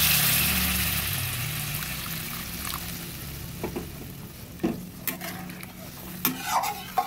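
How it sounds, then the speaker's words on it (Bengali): Hot water poured into a pan of Tengra fish curry, a loud rushing hiss at first that fades into a softer sizzle, followed by several spoon clinks and stirring knocks against the pan. "জলটা আমি গরম জল দিচ্ছি।"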